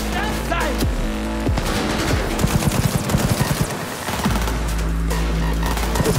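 Rapid automatic gunfire from a professional-grade weapon in the video game Cyberpunk 2077, loud bursts of quick shots over a droning backdrop, with a stretch of fast rattling fire in the middle and a voice briefly talking.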